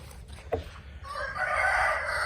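Desi chickens on a poultry farm cluck and crow, a sharp brief call early on followed by a loud sustained rooster crow, close and unaccompanied by talk.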